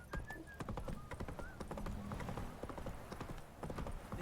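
Roach the horse's hooves clip-clop steadily and close in The Witcher, a brisk run of hoof strikes with a faint whinny-like tone, no voices over it.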